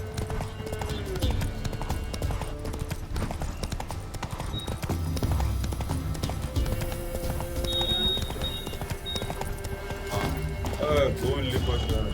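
Horse galloping in The Witcher 3: Wild Hunt, steady clip-clop hoofbeats running throughout under game music and ambience, with a brief whinny and a voice talking over it.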